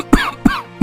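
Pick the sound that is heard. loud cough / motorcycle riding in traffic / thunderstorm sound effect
loud cough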